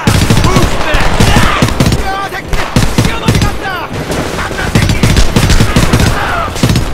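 Rapid gunfire in Homefront, loud dense bursts of automatic shots cracking in quick irregular rhythm, continuous and close throughout.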